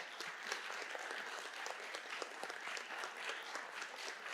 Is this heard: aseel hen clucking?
no